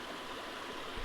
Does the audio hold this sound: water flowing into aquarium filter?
yes